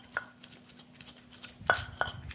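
Ginger, turmeric, shallots, garlic and chili being ground by hand in a mortar, giving scattered soft pounding and scraping knocks, with a few sharper strikes near the end, close up and without talk.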